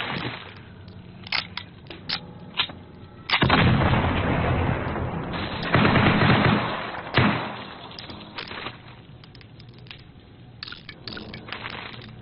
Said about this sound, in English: That explosion legit scared the shit out of me.